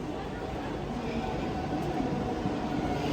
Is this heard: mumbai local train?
yes